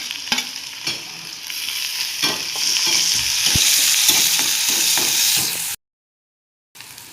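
Chickpeas and tomatoes sauté in a pan for chana masala, a steady loud sizzle with repeated scraping stirs building in intensity, then a brief silence near the end.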